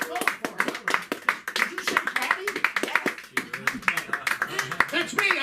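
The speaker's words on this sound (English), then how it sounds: "Give yourself a round of applause." A small comedy open mic audience claps in quick, uneven bursts, with someone speaking loudly over the applause.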